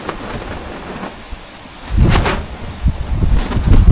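Strong wind buffets the microphone in heavy low rumbling gusts, swelling loudly around the midpoint and again near the end.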